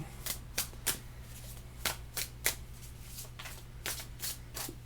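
Tarot cards are shuffled by hand close up and fairly quietly, making a string of soft, crisp riffling bursts at an irregular pace over a low steady hum, with no talking.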